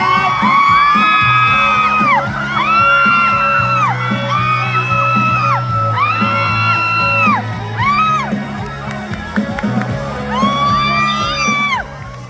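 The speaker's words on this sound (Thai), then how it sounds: "ขอเสียงดังๆให้กับพิธาด้วยครับ" An outdoor political rally crowd at a Chiang Mai policy festival whoops, shouts and cheers loudly in repeated swelling bursts, with some amplified voice and sound mixed in.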